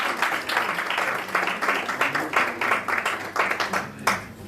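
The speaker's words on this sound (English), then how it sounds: "A round of applause for the presentation." A crowd at a university management and law research day applauds a student presentation with steady, dense clapping that stays loud and close throughout.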